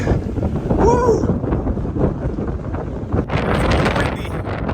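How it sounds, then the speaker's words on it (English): Strong wind at the Grand Canyon buffets the microphone with a loud, roaring rumble throughout, gusting louder toward the end, a brief voice-like cry early on. "Windy."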